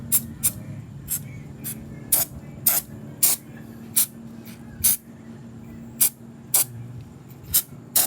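Short bursts of B40 rust penetrant sprayed onto bolts of a Yamaha RZ250 motorcycle, about a dozen crisp hissing spurts in an irregular rhythm, close and loud over a low background hum.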